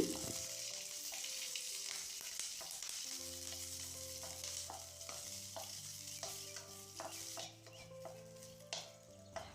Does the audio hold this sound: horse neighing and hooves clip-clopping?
no